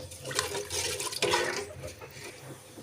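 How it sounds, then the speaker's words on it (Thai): Agar jelly mixture boiling in a pot for a flower jelly cake, a soft continuous bubbling and rushing with a brief clink midway, close but fairly quiet, no talk. "ตอนนี้ วุ้นก็เดือดแล้วนะคะ"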